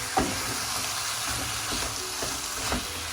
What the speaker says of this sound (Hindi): हम इसको अच्छी तरह मिक्स कर लेंगे।